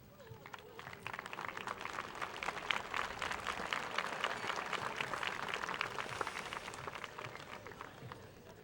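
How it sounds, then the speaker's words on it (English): Crowd at a high school graduation ceremony applauds the graduates' families, a steady wash of dense clapping that holds for several seconds at moderate level, with scattered voices and cheers mixed in. "They deserve another round of applause as well."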